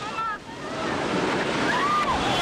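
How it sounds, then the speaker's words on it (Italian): Tsunami seawater floods into the streets of Banda Aceh as a steady, roaring wash of rushing water and surf-like noise, close and loud throughout, with faint voices underneath. "A Bandace sono le 9:30 quando il mare comincia a entrare nella città"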